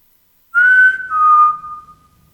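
A person whistles one sustained, clear note for about two seconds inside an old elementary school in Ohio. The note starts bright, steps slightly lower partway through and fades out at the end, with no talking around it.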